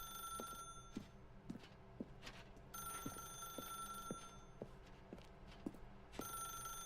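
A telephone rings in the video game The Stanley Parable, with repeated rings in a regular rhythm over a quiet game background, fairly faint.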